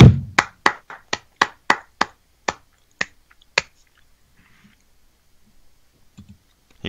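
Sharp, crisp hand claps ring out as a run of about ten, quick at first and then slowing and fading, followed by near silence and a few faint taps.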